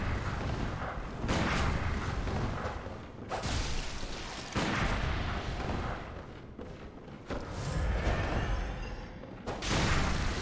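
Repeated heavy gunshots and booms from a gun in Bloodborne, coming in loud bursts every second or two over rumbling combat noise, with no talking.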